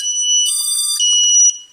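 A Walkera Rodeo 150 quadcopter sounds a loud, shrill electronic warning tone close by because its transmitter is off, with a couple of sharp pulses breaking up the steady beeping.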